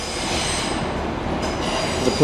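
Irish Rail R3000 replacement train pulling into a station platform, a steady rolling rumble with a brief high wheel squeal partway through, close and continuous.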